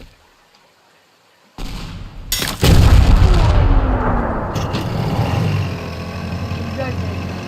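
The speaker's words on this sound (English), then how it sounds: "We'll put a C4 on." A C4 charge detonates against a ship in the game Teardown, a sudden loud blast followed by a long rumbling roar of collapsing debris that slowly fades.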